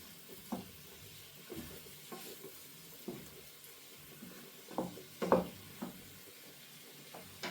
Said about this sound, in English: I'm going to add the mushrooms in now. And they are just going to soak up all that oil and butter.